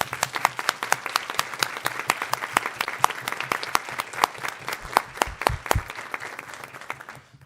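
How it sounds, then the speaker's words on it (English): Applause at a board of education meeting, a modest group of people clapping with distinct, individually audible claps in a quick irregular patter that fades out toward the end. "Please join me in giving him a round of applause."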